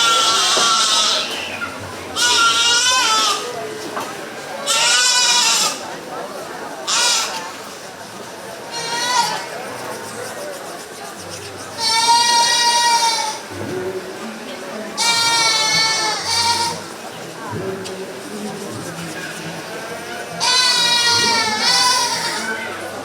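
Meat goats bleat repeatedly at a 4-H county fair goat show, loud cries in an indoor arena, under a continuous announcer voice over a PA system.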